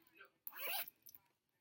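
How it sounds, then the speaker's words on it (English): A zipper with a small added tab on a handmade bag is pulled in one quick, close, rasping stroke, with quieter handling noises before and after. "I even added this little tab here. And it's a zipper."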